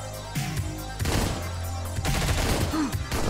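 Several sharp bursts of rapid gunfire in Hotline Miami 2, fairly loud and close, separated by short pauses over a steady electronic background tone.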